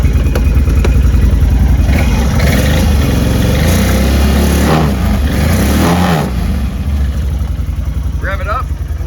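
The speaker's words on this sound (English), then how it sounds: "Get a grinding noise out of this clutch cover here." A 2014 Can-Am Outlander XT 500 ATV revved in gear with its clutch cover grinding: a loud, close engine that surges and drops in pitch with a rough grinding undertone, while someone talks over it.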